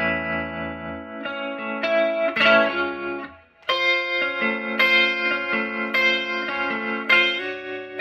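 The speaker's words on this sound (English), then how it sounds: "So that's what that next part's gonna sound like after you give it that up strum on those four strings." An electric guitar strums a part of a song, with effects-laden chords: several distinct strums, including up strums across four strings, ringing with chorus and echo, loud and close, with no talk.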